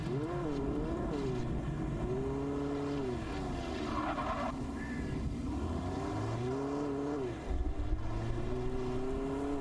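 A car engine runs in the Alan Wake video game, a steady low drone with rising and falling revs that hums along continuously and fairly quietly, with no talking.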